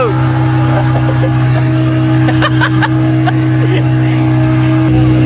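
A loud, steady engine drone roars throughout, with a constant low hum and wind noise, as a motorboat runs fast nearby.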